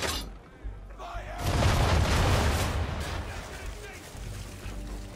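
Broadside of ship cannons in the Assassin's Creed III naval combat, a loud booming barrage that swells after a brief lull and rumbles on with crackling impacts and splashes.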